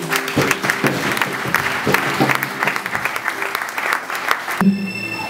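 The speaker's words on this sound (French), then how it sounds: "On acclame très fort pour la parole de Dieu" A church congregation at a Sunday service applauds steadily with loud, dense clapping for several seconds, then cuts off abruptly into a quieter room tone.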